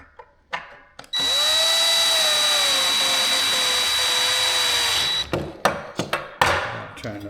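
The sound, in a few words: power drill tightening screws on a helmet wall mount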